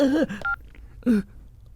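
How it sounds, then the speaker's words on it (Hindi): A telephone number is dialed in a Hindi-dubbed action thriller film, with a brief keypad tone heard between louder wavering tonal sounds. "जल्दी से फोन करके भाई को ये बात बतानी होगी।"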